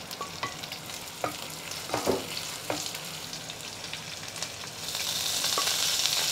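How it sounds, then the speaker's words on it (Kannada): Cumin seeds and curry leaves fry in hot oil with a steady sizzle, broken by a few sharp stirring scrapes, and the frying grows louder toward the end; no one speaks. "ಜೀರಿಗೆ, ಕರಿಬೇವು ಸ್ವಲ್ಪ ಫ್ರೈ ಮಾಡ್ಕೋತೀನಿ."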